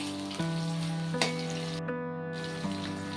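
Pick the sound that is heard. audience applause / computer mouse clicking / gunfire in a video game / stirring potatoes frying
stirring potatoes frying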